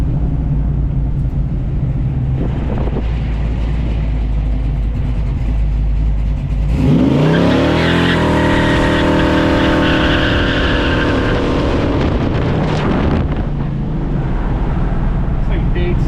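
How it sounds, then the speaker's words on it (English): A 1978 Dodge D150 Warlock pickup with a 470 cubic inch big block does a burnout on concrete, its loud engine roaring steadily and then climbing sharply in a surging rev with squealing tire scrub, heard up close from start to finish. "It's different doing burnouts on concrete as opposed to asphalt."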